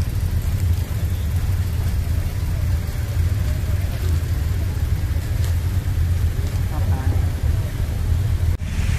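Many police vehicles' engines run together at an outdoor gathering, making a steady low idling rumble throughout under faint crowd noise.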